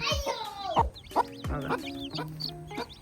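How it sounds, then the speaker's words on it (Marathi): A small hen clucks among her chicks at a farmyard, a series of short close clucks and brief calls with chirpy peeps, fairly faint overall. "बारीक कोंबडी"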